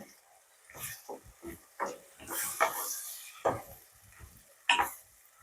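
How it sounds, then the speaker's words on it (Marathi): Tomato masala paste stirred and fried in a pan, with intermittent scraping and sputtering bursts of sizzle separated by quiet gaps, fairly close and moderately soft. "नंतर यामध्ये आपण केलेलं वाटण घालायचं आहे हे टोमॅटोचं। लगेच असं फिरून घ्यायचं।"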